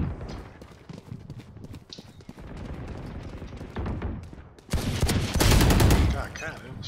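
Gunfire from a video game shooter, with rapid bursts of shots that turn loud and dense in the second half over a steady background of game noise.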